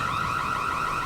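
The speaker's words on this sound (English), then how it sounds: "Then the fire alarm goes off." An alarm set off by an oven sounds as a loud, continuous high-pitched electronic tone, steady and unbroken throughout, with no voices.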